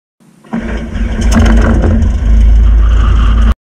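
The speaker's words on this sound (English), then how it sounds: "Is there anything nicer than the sound of a piston engine starting up?" A Cessna 172 piston aircraft engine starts up close and loud, catching abruptly and settling into a steady, heavy rumbling idle that cuts off sharply at the end.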